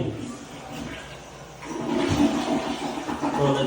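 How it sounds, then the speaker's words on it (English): A bathroom toilet flushes with a steady rush of water that grows louder after about two seconds and keeps roaring. The sound is close and fills the room. "Toilet's flushing fine."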